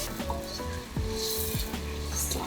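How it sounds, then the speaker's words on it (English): Onions sauté in a hot pan as the base for Nigerian jollof rice, a steady close sizzle broken by a few clinks and scrapes of a stirring utensil. "Saute those onions."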